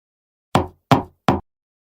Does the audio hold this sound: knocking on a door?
yes